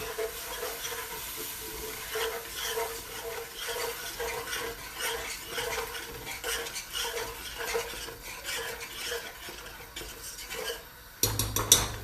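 Milk being stirred into macaroni and cheese sauce in a pot, a rhythmic scraping and sloshing stir that repeats steadily, close and moderately loud, ending with a clatter of utensils.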